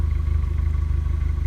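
Renault Megane 225 engine held on a steady high idle, a close, loud, even rumble with a fast regular pulse and no breaks.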